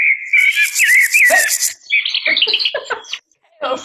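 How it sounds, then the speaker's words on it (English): A meadow grasshopper chirps in rapid, rhythmic buzzy pulses for under two seconds, overlapping a thin whistling tone, followed by brief bursts of chatter and voices. "Number 4 is a meadow grasshopper"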